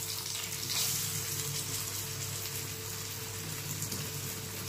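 Pointed gourd (kakrol) slices frying with spices in a pan, a steady, even sizzle that stays constant and fairly soft throughout, with no talking.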